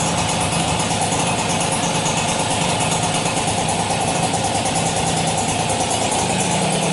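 A Peugeot Fox Deluxe 50cc two-stroke moped idles steadily up close, a constant buzzing engine drone that holds an even level throughout with no talk over it.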